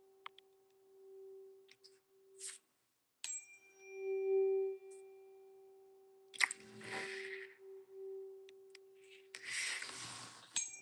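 A 384 hertz tuning fork is struck and rings as a pure, steady hum, sounding several times with soft taps and faint rustling in a quiet room.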